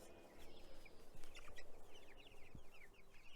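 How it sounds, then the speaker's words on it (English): Backyard chickens clucking softly while pecking and scratching at grass for bugs, with scattered short calls and light scuffing over a quiet outdoor background and no speech. "Pretty cool to see them pecking at the grass, scratching around and digging for bugs like a normal chicken should."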